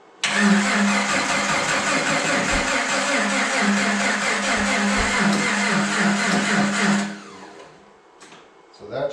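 An old Jeep engine cranks and catches, running loud and steady for about seven seconds with a low rumbling hum before cutting off, leaving faint clatter and brief voices.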